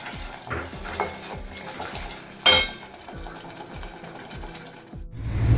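Spoon clinking and scraping in a pan as onion-garlic masala is stirred and sautéed, repeated soft metallic strokes at a steady pace, close by, with one sharper clatter midway.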